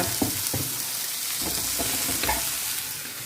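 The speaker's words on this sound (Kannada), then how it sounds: "ಈ ರೀತಿಯಲ್ಲಿ ಮಸಾಲೆ ಹಾಕಿ ಈ ರೀತಿಯಲ್ಲಿ ಹುರಿದುಕೊಳ್ಬೇಕು" Masala frying and being stirred in a pan for a traditional Tulunadu dish, a steady sizzle broken by several scraping spoon strokes, close with no talk.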